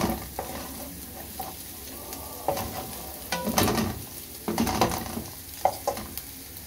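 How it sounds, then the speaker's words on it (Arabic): Peppers are sautéed in a pan for shakshuka, giving a steady sizzle with bursts of louder frying and scraping stirs, close by, with no talk. "هنشوح بس الفلفل معاكم كده"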